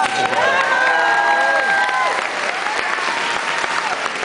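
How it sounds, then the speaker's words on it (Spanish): An audience at a Michelle Bachelet event in Berkeley, California bursts into loud, dense applause with some cheering and voices in the crowd, sustained throughout at close range. "Fuerte el aplauso."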